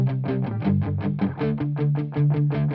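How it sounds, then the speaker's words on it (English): Palm-muted electric guitar through Amplitude Heavy Hitter patches for a track chugs in a steady rapid rhythm, thick distorted low chords pulsing loudly and alone throughout. "Next up, I needed chuggy palm mutes."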